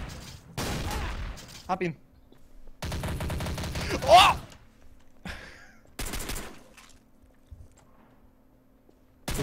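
Short, close bursts of rapid gunfire in Garry's Mod Trouble in Terrorist Town come in three separate volleys with quiet gaps between them, while a voice briefly speaks.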